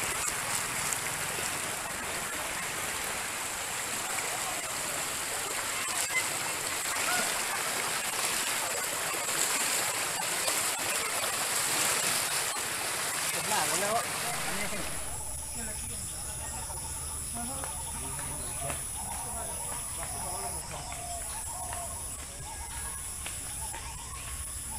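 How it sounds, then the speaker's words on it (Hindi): Monsoon flood water in Assam rushing in a continuous broad roar, loud and unbroken, shifting to a lower churning wash partway through with a hint of engine or boat noise. "मॉनसून का आना और असम की बाढ़।"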